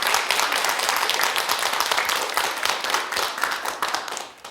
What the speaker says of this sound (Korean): 박수 한번 크게 쳐